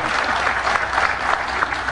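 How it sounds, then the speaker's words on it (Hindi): An audience at a humorous poetry recital bursts into continuous, close and fairly loud applause, a dense wash of clapping with scattered louder hand strikes throughout. "तालियों से पता चलेगा बात समझी जा रही है।"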